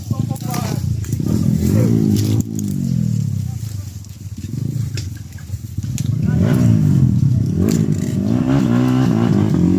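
Motorcycle engine revving and straining on a muddy trail, loud and close with rising and falling pitch and clattering bumps, while people shout and talk over it.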